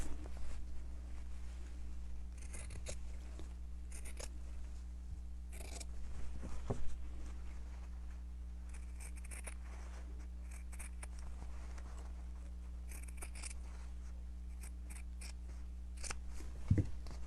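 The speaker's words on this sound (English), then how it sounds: "So I'm just gonna cut this where I can cut it semi-straight." Scissors snip through craft material for a gnome figure, several quiet separate cuts spread across a faint steady room hum, with no talking.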